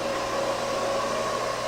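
A quiet porous rotor type hair dryer runs steadily, a low, even whir with a faint tonal hum, heard alone.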